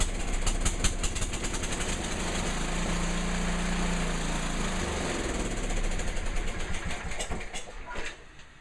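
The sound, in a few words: Sears 10XL lawn tractor engine running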